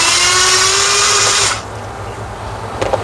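A loud power drill whines steadily for about a second and a half while removing the instrument cluster from a 2009 Ford F-250, then cuts off, leaving a quieter background hum with a faint rattle near the end.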